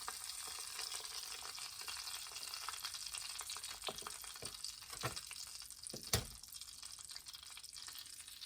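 Pork chops frying in hot grease with butter and oil give a steady, quiet sizzle, with a few sharper pops and spatters breaking through near the end.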